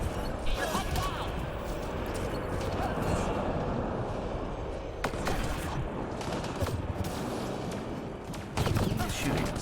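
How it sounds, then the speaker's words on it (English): Rapid gunfire bursts and weapon impacts in a Mass Effect Andromeda multiplayer match, dense and continuous with sharp cracks throughout and a louder volley near the end, under faint voices. "Who's shooting us?"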